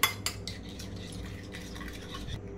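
Curd is whisked with powdered sugar in a bowl, quick rhythmic scraping and tapping strokes with a couple of sharp clinks at the start, close and fairly quiet.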